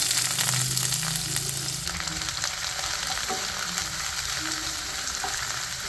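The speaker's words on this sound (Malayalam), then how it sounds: "ഇനി നമുക്ക് സവാള ഇട്ട് കൊടുക്കാം." Sliced onions dropped into hot oil already holding crushed garlic, frying for a potato stir-fry: a dense, loud crackling sizzle that stays strong throughout, with a few faint scraping stirs, heard up close.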